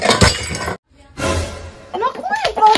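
A plate breaks with a sharp, loud shattering crash of ceramic pieces, and people talk before and after it.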